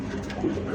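Pigeons cooing nearby at a wholesale pigeon market where Lahore and satin breeds are sold, with a steady low warble running through the short moment.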